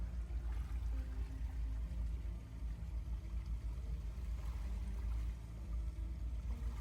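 A steady low engine drone with rushing water as a houseboat motors along underway, constant and fairly close.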